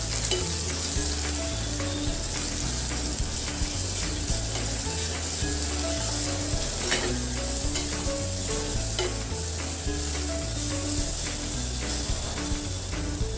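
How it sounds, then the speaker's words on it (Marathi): Green chillies and ginger garlic paste frying in hot oil, a dense, loud, continuous crackling sizzle with a constant mechanical hum beneath it, close up and uninterrupted. "हे देखील आपण छान तेलामध्ये परतून घेणार आहोत."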